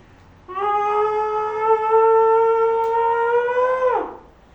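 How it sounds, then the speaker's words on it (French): A single loud, sustained vocal scream pressed into a cushion holds steady for about three and a half seconds, then breaks off, with quiet before and after. "si tu es plus à l'aise de faire vraiment un cri fort à l'intérieur de ton coussin"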